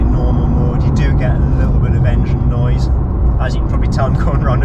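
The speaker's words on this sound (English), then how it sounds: "It is fairly quiet in normal mode. You do get a little bit of engine noise." A Porsche 992 without sports exhaust driving in normal mode, its engine a low, steady hum mixed with road noise from inside the cabin while someone talks over it.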